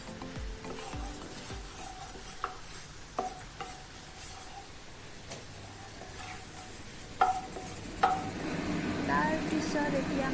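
Whole cumin seeds hit hot oil while a Moringa (drumstick) dish is being made, giving a soft crackling sizzle with scattered utensil clinks and stirring scrapes that swell into a louder, steady frying hiss near the end.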